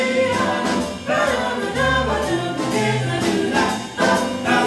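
Singers perform vocal jazz backed by a jazz band, with voices over bass, drums and horns, loud and continuous with a few brief dips.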